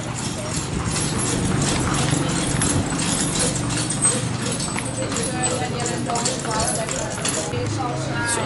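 Horse hooves clip-clop along a street in Granada, Nicaragua, a busy outdoor scene with traffic and other street noise around, the steps steady and mid-distance while people talk throughout.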